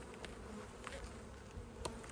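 Honey bees buzz around hive frames of freshly drawn comb, a dense continuous hum of many insects with occasional louder passes as individual bees fly close.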